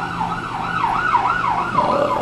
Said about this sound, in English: Fire truck. No ambulance.